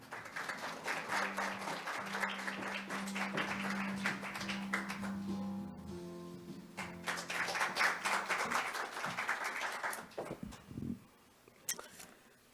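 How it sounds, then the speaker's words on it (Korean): Audience applause at a 2021 international conference on labor and employment, a sustained crowd of clapping hands that swells, briefly eases with a low tone under it, then rises again before fading out. "여러분 큰 박수로 맞아주시기 바랍니다"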